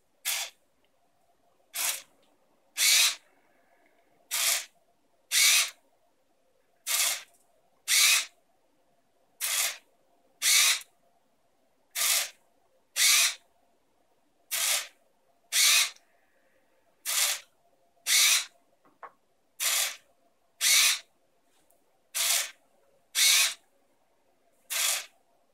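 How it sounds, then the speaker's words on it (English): Servo-driven plant-watering robot arm that pulls a spray bottle, sounding as about twenty short, sharp, evenly spaced bursts of motor whir or spray, each lasting under a second, with near silence between them. "by moving the robot arm and pulling the spray bottle, you can water each of the boxes individually"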